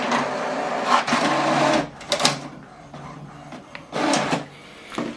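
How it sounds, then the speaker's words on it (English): An HP printer runs a double-sided print job sent from a laptop, with repeated mechanical whirring bursts of feeding and printing broken by short pauses and clicks as the paper moves through. "You can see we printed this out double-sided from this printer"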